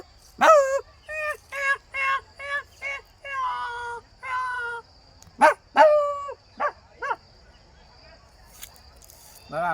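Stray dogs bark and whimper in a string of loud, separate yelps and cries, fairly close, with pauses between bursts and a faint buzzing background.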